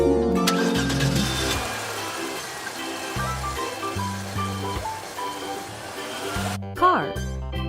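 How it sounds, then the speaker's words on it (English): A cartoon-style car engine starts and revs in a short burst near the end, set over bouncy children's music with a steady stepping bass line. "Car."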